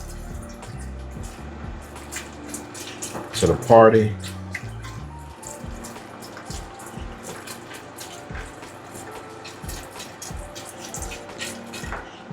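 Chicken broth pours into a pot of green beans and potatoes for a bacon side dish, a wet splashing burst near the start and then a light trickle, with a person talking throughout.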